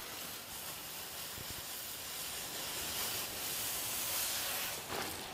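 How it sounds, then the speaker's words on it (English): Water splashing and spraying over a hydroponic pot cover as it is rinsed, a continuous soft hiss with slight swells, heard close and alone without talk. "Rinse the cover."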